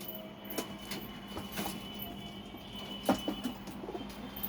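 Pigeons in a flying loft on a hot day coo and rustle close by, with soft overlapping calls, faint wing and body movements, and a steady background hum throughout.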